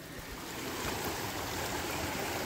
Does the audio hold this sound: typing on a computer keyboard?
no